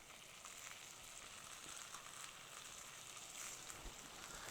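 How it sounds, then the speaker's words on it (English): Vegetables sautéing in butter in a pan, a steady close frying sizzle with faint crackle running without a break and no voices. "you start to hear that sound of the bubble and the sizzle of your vegetables"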